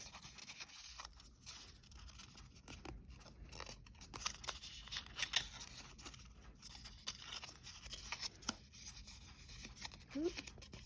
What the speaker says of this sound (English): I'm just going to fold where I scored